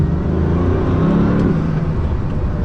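Bugatti Veyron engine and turbochargers from inside the cabin, a loud steady low rumble with harmonic whir holding through the whole stretch, no voices.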